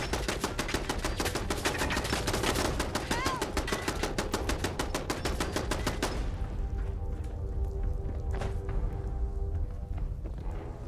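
Rapid automated turret fire in Fallout 4, a dense, loud stream of clattering shots for about six seconds, then thinner bursts and mechanical rattling as the barrage tapers off.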